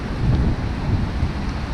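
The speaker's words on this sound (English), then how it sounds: "So even when it's wild and windy weather like this," Wild, windy weather with rain at a carp lake, a steady loud rumble of wind buffeting the microphone with rain noise throughout, no voices.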